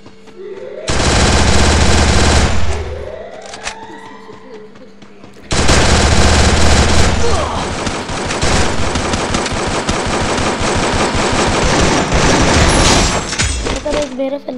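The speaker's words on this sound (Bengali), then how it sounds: "তারপরে ওই বন্দুক চালাবো।" Loud, sustained automatic gunfire in the video game Free Fire comes in two long bursts separated by a brief pause, with a voice talking over parts of it.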